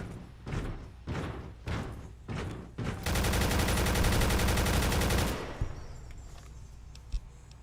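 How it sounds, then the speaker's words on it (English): Marksman rifle firing in Fallout 3: five sharp single shots at an even pace, then a sustained burst of rapid automatic fire for about two seconds, followed by a fading tail and a lone thud. "This is the marksman rifle from Halo."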